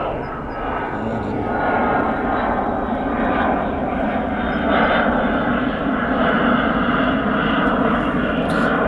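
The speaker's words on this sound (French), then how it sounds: "On va attendre que l'avion passe" Airplane passing overhead outdoors, a loud broad engine roar that holds steady and swells slightly in the middle, drowning out the surroundings with no voices.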